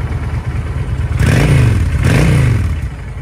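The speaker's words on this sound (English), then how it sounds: "Bike runs beautifully" A 2008 Honda Shadow 750 Spirit cruiser idles with a low, loping V-twin rumble, then is revved twice in quick succession, each blip swelling loud and close before settling back.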